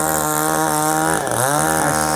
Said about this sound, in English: now they're having to go with the chainsaw